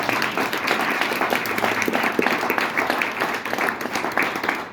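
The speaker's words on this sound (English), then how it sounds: "can we have a round of applause for our incredible panelists?" A panel-discussion audience gives the panelists a round of applause, many hands clapping briskly and steadily at close range, with no talking over it.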